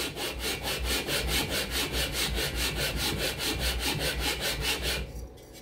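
VW 1600 engine cylinders being lapped by hand onto the cylinder heads: a loud, steady back-and-forth grinding rasp in an even rhythm of about four strokes a second, close up, stopping just before the end.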